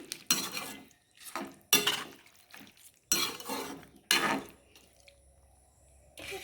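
Potatoes scraped and stirred in a pan alongside fried pointed gourd, four or five rough, close stirring bursts separated by short pauses, with a faint sizzle underneath.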